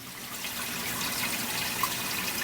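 An aquarium wet/dry filter running, water flowing and trickling in a steady close wash with a few soft drips, no voices.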